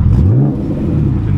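TVR Sagaris sports car with side-exit exhausts, engine revving loudly and close at a classic British car gathering, a rising then falling throaty pitch in one short burst.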